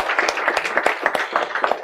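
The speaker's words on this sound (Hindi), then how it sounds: "आप लोग अपने लिए जोरदार तालियां बजा दो" Students in a CA Foundation law lecture clap for themselves, a dense, continuous patter of many hands at moderate loudness, with no talk over it.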